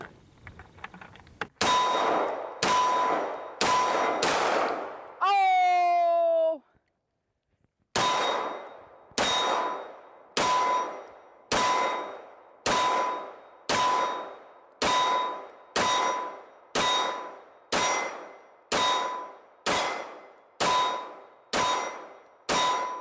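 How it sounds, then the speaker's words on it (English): A Kimber 2K11 Stainless pistol is fired at Monarch steel targets, and each hit rings out as a loud, sharp metallic clang. Roughly seventeen evenly paced clangs come with one short pause partway through, and no one talks. "I am shooting steel, Monarch steel."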